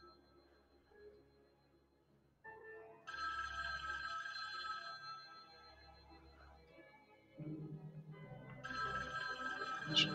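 A telephone rings in a fan-made PC Halloween game based on John Carpenter's Halloween, its repeated electronic bursts sounding over the game's background music and ambience.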